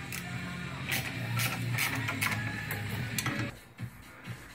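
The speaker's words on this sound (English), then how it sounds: "I'm just going to take these few bolts out around the edge and just pull the pressure plate off" Bolts being worked out around the edge of a Volkswagen clutch pressure plate give a steady close mechanical rattle with rapid ticking, ratchet-like clicks and several sharp metallic taps, then a few scattered knocks.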